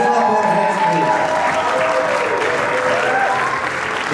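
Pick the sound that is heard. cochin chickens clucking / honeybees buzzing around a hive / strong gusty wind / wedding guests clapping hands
wedding guests clapping hands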